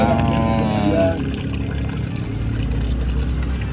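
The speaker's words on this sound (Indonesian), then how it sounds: "Oh, airnya dibuang sini ya Bang Ipal ya?" Old water is poured out of a bucket used for farming catfish, a loud close splashing gush that pours out strongly at first, then continues as a rougher rushing flow.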